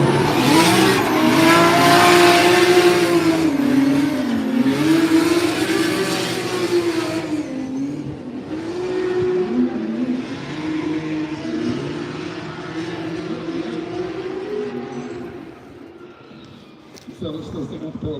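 Toyota Mark IV and Mark V Supra drift cars battle at a Formula Drift event in Utah, their engines revving hard and wavering loudly before fading into a lower, distant drone, with a commentator talking over them.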